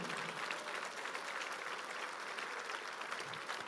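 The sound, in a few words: congregation applause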